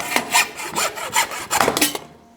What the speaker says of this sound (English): I usually just take a hacksaw and cut it off right at the head